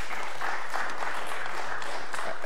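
Audience at an IAS 2011 conference session applauds, a dense, even wash of clapping filling the whole short stretch without any break.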